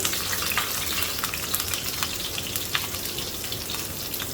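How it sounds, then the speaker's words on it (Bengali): Diced onion cubes sautéing in a little oil in a pan, a steady dense sizzle with scattered crackling pops throughout, close and continuous with no voices. "মেইন হলো পেঁয়াজটা সাতলে করে নেব।"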